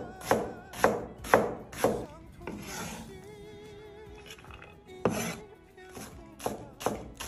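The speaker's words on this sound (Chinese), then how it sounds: "把洋葱给它改刀切一下" An onion chopped with a knife on a board, four crisp, evenly spaced chops up close, a pause with light scraping, then another run of quick chops.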